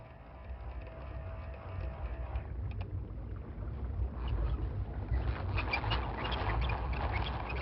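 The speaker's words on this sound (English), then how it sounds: "I have to hold the switch, else the downrigger shuts off." A 1986 Cannon Mag 20 electric downrigger on a salmon fishing boat whirs steadily at close range, its motor hum under wind and water noise, growing slightly louder toward the end.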